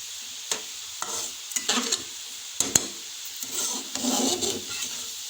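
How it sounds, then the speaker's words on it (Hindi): Sweet zarda rice with cream and sugar is stirred and fried in a pot. A spoon scrapes in irregular strokes with sharp clinks against the metal over a soft, continuous sizzle. "इसे मिक्स करके भून लेते हैं"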